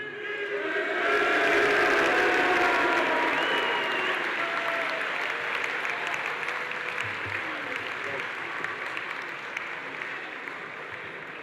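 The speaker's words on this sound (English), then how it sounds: "Let's have one more round of applause for all these graduates" A large crowd gives loud, sustained applause for graduates at the VMI graduation ceremony, a dense roar of clapping with some cheering mixed in that swells early and then holds steady to the end.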